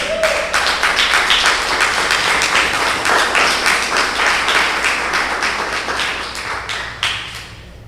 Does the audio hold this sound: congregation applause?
yes